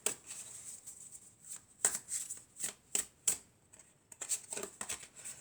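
Fairy tarot cards being shuffled by hand, a series of crisp riffling bursts and slaps in an uneven rhythm, close and fairly quiet with no speech.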